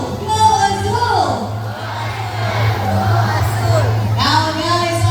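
Girls cheering and shouting together in a group chant, loud and close, with a steady low hum underneath and voices rising and falling across the whole stretch.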